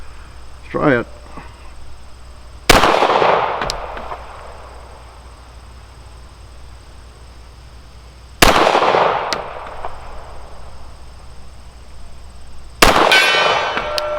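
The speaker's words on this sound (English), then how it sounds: "Got the gong." Three sharp shots from a Glock 41 .45ACP pistol at a steel target range, each followed by a ringing metallic clang from the hit steel gong that decays over a second or two, with brief speech between.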